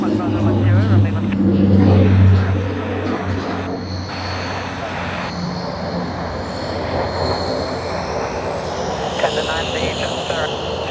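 Aircraft at Sydney Airport taxiing, a loud engine hum peaking early then settling into a steady broad whine and rumble, with voices talking over it.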